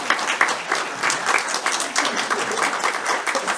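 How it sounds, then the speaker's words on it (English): An audience at a community storytelling event in Nyack Library claps for the emcee. The applause is dense and steady, with many hands overlapping throughout and no voices on top. "So I'd love to get a round of applause for Ben."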